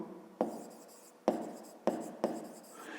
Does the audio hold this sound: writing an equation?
yes